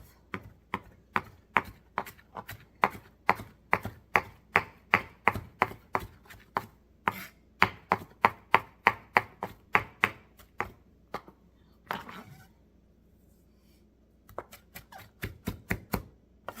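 A knife chops Italian sausage pasta ingredients on a cutting board, close and loud, in a fast steady run of sharp thuds that pauses briefly near the end before a few final quick chops.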